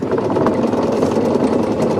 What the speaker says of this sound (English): Motor forward. I'm idling forward